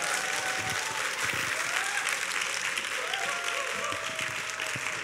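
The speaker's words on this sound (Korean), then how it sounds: "많은 박수로 환영해 주시면 감사하겠습니다." Audience applause at a church small-group praise contest, dense steady clapping from a crowd welcoming the host, continuous and fairly loud throughout, with a faint voice underneath.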